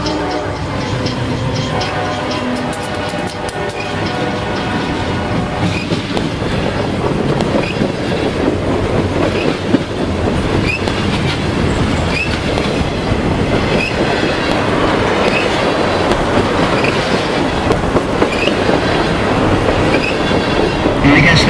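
A train rumbles steadily past with rhythmic clickety-clack from the wheels and occasional metallic squeals, loud throughout.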